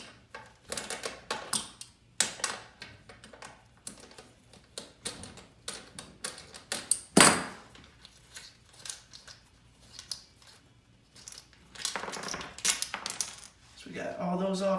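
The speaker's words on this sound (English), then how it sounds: "Got to loosen these bolts." Metallic clicks and ratcheting taps come in uneven bursts from a wrench loosening the bolts on a toilet being removed, close up, with no talking.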